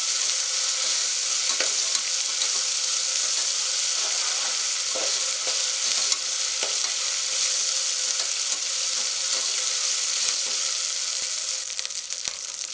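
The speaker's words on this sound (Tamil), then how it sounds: "அந்த பச்சை வாசனை போய் எண்ணெய் பிரிஞ்சு வர்ற அளவுக்கு நம்ம வதக்கிக்கலாம்" Masala for vegetable biryani fries in oil in a pan, making a loud, steady, close sizzle that runs without a break, with faint stirring scrapes now and then and no voices.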